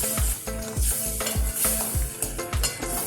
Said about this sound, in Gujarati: પછી બરોબર બધું મિક્સ કરી લઈશું